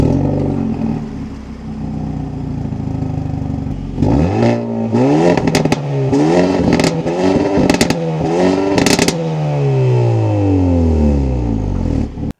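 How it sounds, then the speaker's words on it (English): A Hyundai Elantra N hatchback's factory exhaust idles with a loud steady drone, then snaps through a series of sharp revs with crackling pops before settling into a long falling rev and a smooth high idle. "Without a doubt, this has to be the best sounding factory exhaust"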